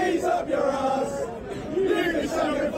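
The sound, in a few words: football fans chanting "shove the cheese up your ass"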